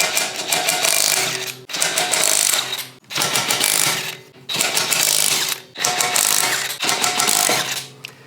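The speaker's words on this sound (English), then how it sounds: "So I'm gonna start with the driver's side, get these lug nuts off, get the wheel off." A ratchet removes the wheel lug nuts on a first-generation Toyota Tacoma truck, sounding as loud, close runs of rapid mechanical clicking in about five bursts with short gaps between them.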